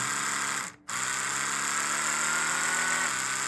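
A steady Oral-B Pro 5000 electric toothbrush buzz hums on, briefly cutting out near the start, then resuming at a constant lower-mode setting.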